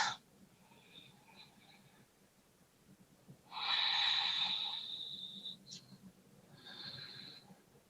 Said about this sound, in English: you just come back to that inhale through your nose, that exhale through your nose